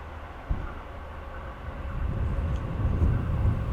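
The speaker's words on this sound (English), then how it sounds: "I hear the train coming." A train approaches in Japan, its low rumble swelling gradually from quiet to a heavier, closer roar with no talking.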